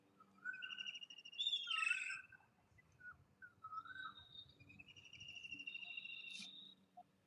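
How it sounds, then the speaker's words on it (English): A kingfisher calls from a distance in thin, high whistled trills, several separate phrases over quiet outdoor background, with other faint birds and insects around. "Listen to the sound of the kingfisher from a distance."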